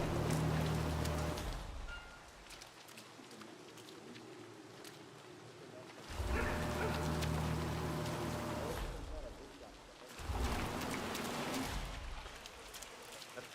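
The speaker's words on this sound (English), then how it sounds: "Rain, rain, nothing but rain." Steady rain falls in the Hitman 3 video game, a continuous hiss that swells louder in three stretches and eases between them, with game characters talking over it.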